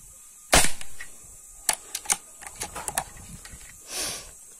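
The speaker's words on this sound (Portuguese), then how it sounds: "Agora eu vou dar 5 disparos com o chumbinho Riff Pro Max." Five sharp shots from a customized Rossi Dione air rifle converted to PCP and firing pellets, each a crisp snap followed by quieter clicks and handling sounds, spaced irregularly over a few seconds with a breathy hiss near the end.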